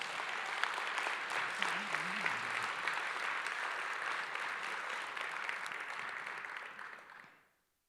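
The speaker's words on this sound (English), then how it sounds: "let's give them one more round of applause" Sustained applause from a large audience at a Dr. Martin Luther King Jr. Day ceremony, steady and dense throughout before fading out at the end.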